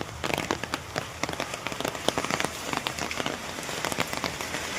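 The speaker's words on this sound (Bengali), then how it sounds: "মাঝ রাস্তায় চলে এসে ঝমঝম করে বৃষ্টি শুরু হয়ে গেল।" Heavy rain pours down on a street, a dense close patter of drops striking surfaces in quick, uneven bursts, steady throughout with no talking.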